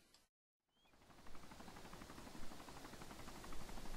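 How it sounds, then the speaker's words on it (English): Helicopter in the survival game DayZ coming in to land, a steady broadband rotor and engine roar that swells after a brief silent gap and holds loud and fairly close. "I heard a helicopter come in."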